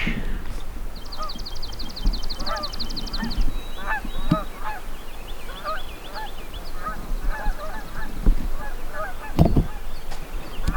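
A flock of geese honks repeatedly in the woods, overlapping calls near and far, with higher bird chatter above and occasional knocks and rustles.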